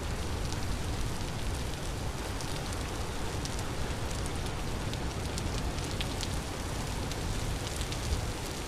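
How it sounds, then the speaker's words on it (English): Steady, dense rain hiss falls across the world of the video game Vintage Story, a constant close wash of droplets with faint ticks on top and no voices. "It's raining, so shouldn't the worms be coming out anyway?"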